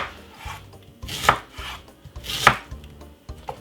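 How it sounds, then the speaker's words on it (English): A knife chops half a tomato and white onion finely on a cutting board. Sharp, distinct knocks land close in an even rhythm, with quieter slicing taps between the louder strikes. "Just gonna cut it up really finely."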